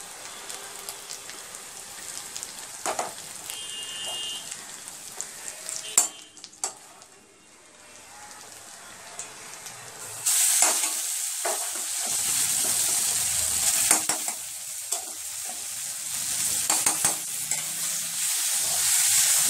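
Boiled taro stolons fry in a pan and are stirred, a steady hissing sizzle broken by scraping strokes, briefly quieter midway before a louder, denser sizzle takes over.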